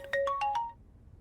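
A short melodic phone ringtone plays four rising and falling electronic tones in quick succession, then stops.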